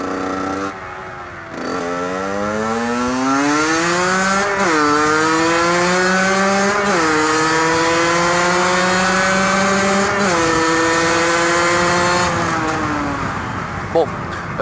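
A motorcycle engine revs loudly and close during wheelie practice, pitch climbing through gears in long rising pulls with brief dips between shifts, sustained throughout the ride.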